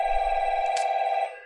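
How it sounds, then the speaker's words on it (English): A telephone rings nearby with a steady electronic tone that fades out at the end, heard alone during a lecture on problem solving with functions. "and the phone's ringing."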